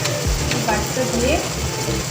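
Whole spices and bay leaf fry in hot oil with a steady, close sizzle, with light crackle from a spice paste going into the pan.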